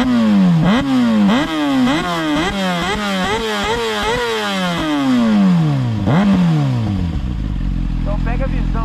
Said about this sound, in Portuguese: Eu vou dar uma aceleradinha a moto parada aqui pra vocês ouvirem direito.